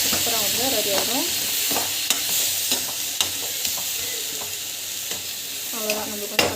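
Food sizzling and frying in a pan while a spoon stirs and scrapes it, a steady loud hiss with repeated clinks and scrapes, close up and without talk.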